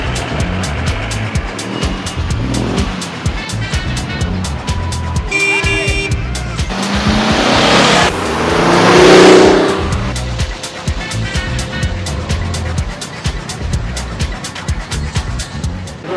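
Classic cars rumbling past nearby in a steady stream during a rally parade through town, engines revving and swelling as one passes close, with occasional background voices.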